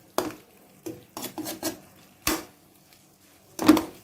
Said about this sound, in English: Make sure you scrape all the masala from the side.